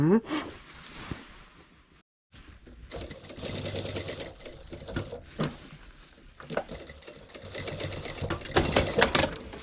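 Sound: sewing machine stitching a belt in two rows

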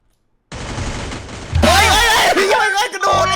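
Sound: gunfire in Free Fire video game

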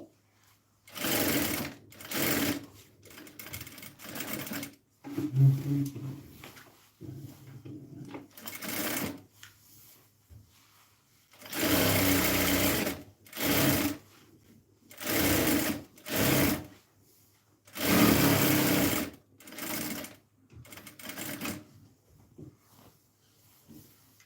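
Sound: sewing machine stitching the side seam of a kameez

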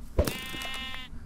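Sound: sheep bleating in a video game

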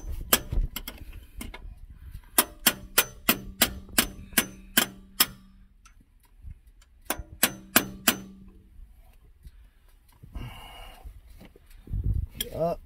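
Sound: hammer and breaker bar smacking a vehicle starter

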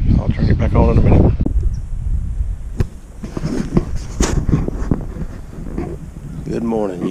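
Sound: wind and rain outdoors

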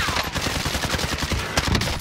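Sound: gunfire in a battle royale video game

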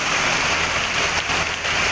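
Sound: heavy monsoon rain in Kerala

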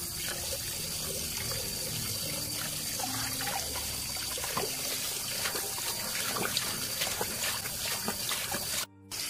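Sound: running water for washing hands

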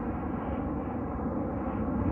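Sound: airplane flying overhead

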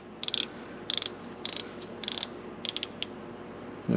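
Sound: ratchet loosening bolt on Jeep TJ Wrangler kickdown

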